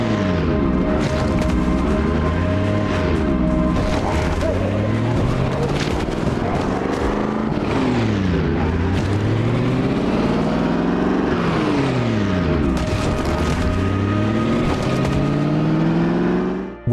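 Car engine in Project Zomboid droning and revving continuously as it ploughs through a zombie horde, rising and falling pitch with repeated gear-like sweeps, loud and close throughout with no talk.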